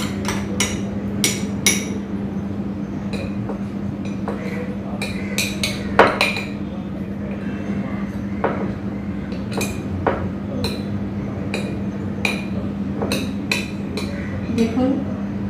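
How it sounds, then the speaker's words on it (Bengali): A spoon stirs and knocks against a container of raw green mango pickle, giving irregular clinks and taps scattered over about fifteen seconds, close by, over a steady low background hum. "আমি চামচ দিয়ে একটু নাড়িয়ে নিলাম।"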